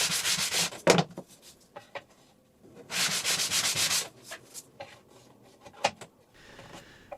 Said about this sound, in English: fine-tuning them with a bit of sanding to make for a snug fit